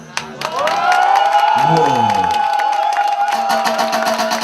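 A comedy show audience breaks into sustained cheering and applause, loud and steady for several seconds, with a whoop or shout rising over the crowd noise.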